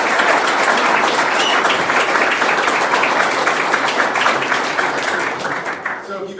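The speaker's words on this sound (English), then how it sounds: "One more round of applause for all." Audience at a business accelerator kickoff event applauding, loud sustained clapping with dense individual claps throughout, tapering off near the end as a voice begins to speak.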